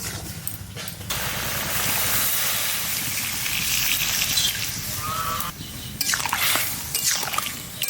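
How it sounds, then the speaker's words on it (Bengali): A little water added to ash gourd frying in a pan, giving a close slosh and splash followed by soft bubbling and sizzling, with a second burst of splashing near the end. "বেশি কষাবো না, অল্প কষায় জল দেবো।"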